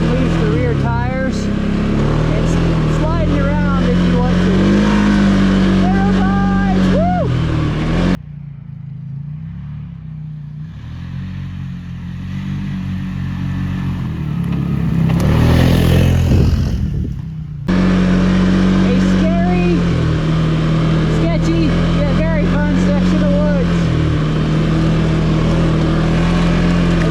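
A 2024 Can-Am Outlander Pro HD7 XU ATV in sport mode accelerates hard and breaks its rear tires loose, its close engine revving and wavering in pitch, with a quieter gap midway before the revving resumes.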